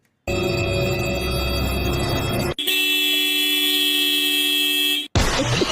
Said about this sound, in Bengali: গাড়ি স্টার্ট দিতে গেলে আগে হর্ন বাজে